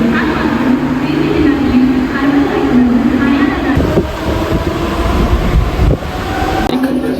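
A train ride carries a steady rumble and clatter, with low engine drone, rushing wind and a few sharp jolts. Voices talk over it throughout.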